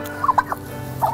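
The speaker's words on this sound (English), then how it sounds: "some of my turkeys that I have back there" Turkeys kept in a backyard pen gobble in short, rapid bursts, a cluster of warbling calls at the start and another near the end, close and fairly loud with no talking.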